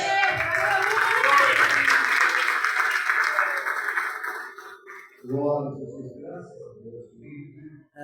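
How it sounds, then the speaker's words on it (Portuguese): A church congregation claps after a sermon, a dense burst of applause that fades away over about four seconds, followed by someone speaking alone. "Aplauda ao Senhor."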